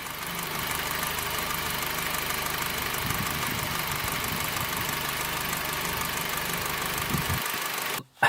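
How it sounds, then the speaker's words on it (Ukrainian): A Honda Civic 8 idles on LPG with fourth-generation gas equipment, its injectors adding a fast, even ticking over a steady low engine hum, recorded close with no talk, cut off abruptly at the end. "Переключив на газ, чути тепер, додався звук форсунок."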